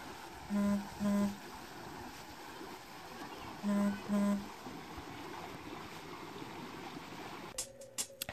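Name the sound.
sound of flowing water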